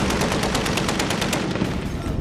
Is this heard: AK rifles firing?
yes